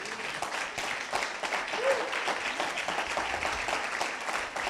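A Spanish-speaking church congregation applauds the Lord during a sermon, a steady wash of moderate clapping from many hands filling the room.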